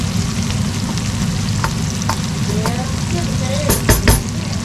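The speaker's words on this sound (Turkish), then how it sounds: "Böyle kızarttım sarıyorum da. Yumurtalarım da pişiyor." Food sizzles steadily in a hot pan as eggs cook, a constant crackling hiss with a few clinks of a utensil near the end.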